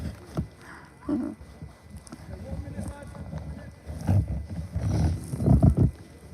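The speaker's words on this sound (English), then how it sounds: "Right next to some mooing cows." Cows mooing beside a football ground before a non-league match, several low drawn-out calls spaced through the clip, the loudest toward the end, with faint talk and background noise between them.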